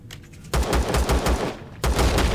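Gunfire while shooting out a core in the space survival game Empyrion, with two loud bursts of rapid shots, one around half a second in and another near the end, with no talk.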